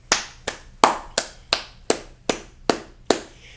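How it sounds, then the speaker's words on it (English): Graduates at a university commencement give a slow round of applause, eight sharp, evenly spaced hand claps sounding close and clear with no talk over them. "offer a gesture of grateful applause to the members of Loyola's extraordinary faculty and staff"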